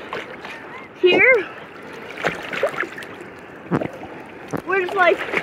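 Ocean waves splash and wash continuously at a beach on South Padre Island, with people talking and squealing excitedly over the steady surf.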